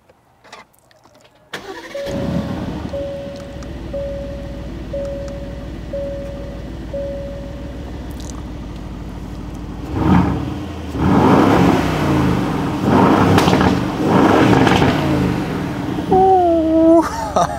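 An Aston Martin Vantage F1 Edition revs loudly close by, the engine idling steadily before several sharp blips climb and fall in quick succession, with a rising whine at the end.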